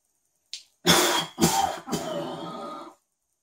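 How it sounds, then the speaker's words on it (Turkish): A short breath, then three forceful, deliberate coughs driven from the diaphragm as part of a breathing and coughing exercise. They come close and loud in a steady rhythm about half a second apart, the last one trailing into a breathy exhale. "Nefesimizi tutup 5'e kadar sayıp ardından 3 kere diyaframdan öksüreceğiz."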